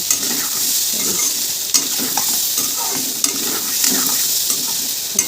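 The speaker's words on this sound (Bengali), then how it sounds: "এখানে লবণ আর হলুদ দিয়ে দিয়েছি ওগুলো দিয়ে আর একটু কষিয়ে" Spices stir-fried in a pan with salt and turmeric, a loud close sizzle broken by repeated scraping strokes of a spatula across the pan.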